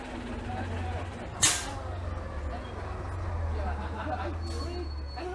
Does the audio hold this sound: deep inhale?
no